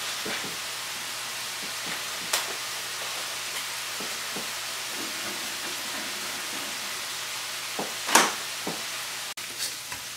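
Sausage browns in a pan for gravy, giving a steady, low sizzle with occasional sharper pops and scraping stirs, close and fairly quiet, with no talking.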